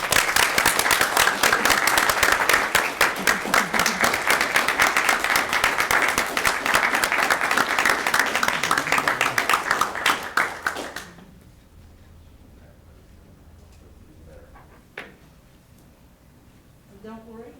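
A school board meeting audience gives loud, sustained applause to welcome a new superintendent, dense clapping for about ten seconds before it stops abruptly, leaving a quiet room with a few faint knocks and murmurs.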